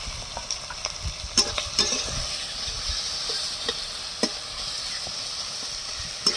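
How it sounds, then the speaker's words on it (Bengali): Chopped onion with ginger-garlic paste frying in a pan, a continuous sizzle broken by repeated scraping clicks of a spoon stirring close by, with no voices. "এবার এটা একটু ভাজা ভাজা হবে।"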